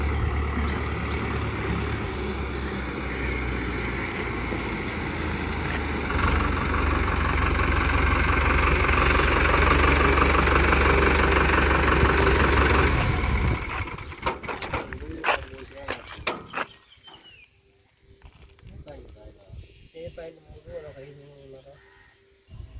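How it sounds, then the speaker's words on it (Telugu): A Powertrac Euro 55 Next 4WD tractor engine drones loudly and steadily at close range for about thirteen seconds, then cuts away to quieter, scattered clunks and rattles. "ఇక్కడికి ట్రాక్టర్ కూడా వచ్చేస్తుంది ఇప్పుడే."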